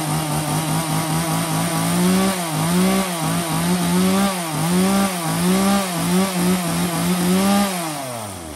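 A chainsaw running close up, its engine note surging and falling in repeated revs over about eight seconds, loud and alone without any talk.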